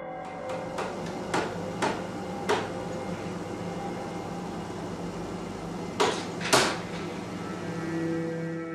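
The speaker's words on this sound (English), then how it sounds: "The door blinds open rapidly, then close just as rapidly." Door blinds on an outer kitchen door snap open and shut in quick succession, a series of sharp rattling clacks early on, a pause, then two louder clatters, over a steady room hum.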